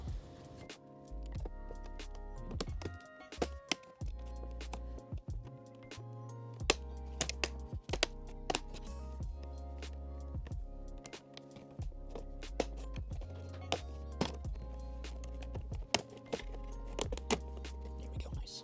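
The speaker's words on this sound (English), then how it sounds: "I'm gonna get a plastic trim tool and try to work my way around." A plastic trim tool pries a Mercedes W220 door panel off its clips, making a quiet, irregular run of clicks, taps and small thunks that come close up.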